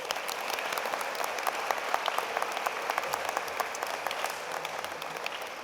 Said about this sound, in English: can we give a round of applause for the parents and the educators?